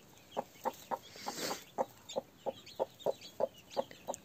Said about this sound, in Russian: Курица беспокоится, какая хорошая квочка, какая мамка, да?